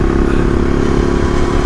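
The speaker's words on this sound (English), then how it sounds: "I'm going to have to put some more padding underneath that dash plate. It's rattling a bit." An AJP PR7 adventure motorcycle running with a loose dash plate rattling over a steady, loud engine drone, close up and unbroken.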